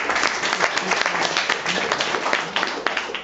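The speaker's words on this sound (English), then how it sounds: "Let's give them a round of applause." Round of applause from an audience for a team, a dense, fairly loud wash of many hands clapping steadily with scattered sharper claps standing out.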